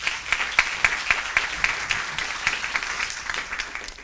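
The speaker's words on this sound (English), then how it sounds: "So a big round of applause for Paula." Audience at an inequality conference applauds a speaker with a dense burst of clapping from many hands that gradually thins and softens over four seconds.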